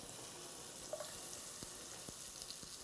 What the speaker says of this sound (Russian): И сразу же выкладываю сюда грушу.